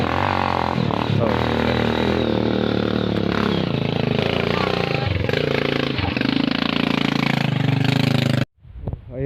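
A motorcycle engine drones steadily and loudly on a rough, damaged mountain road in West Lampung, its pitch shifting as it labors along, before the sound cuts off abruptly near the end.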